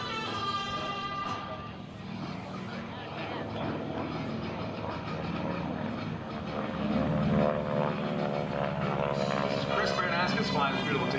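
A North American T-6 warbird propeller plane flies at an airshow, its steady engine drone and prop buzz loud throughout and swelling slightly toward the end, with someone talking over it.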